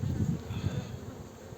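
Honeybees buzzing at a hive during a spring inspection in Muğla, a close, continuous droning hum that swells slightly at first and then holds steady.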